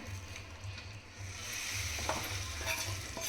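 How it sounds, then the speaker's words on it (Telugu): Tamarind stew simmering as rice paste is stirred in, a faint, close bubbling sizzle with light scraping strokes over a low steady hum. "ఇప్పుడైతే పులుసు మరుగుతుంది."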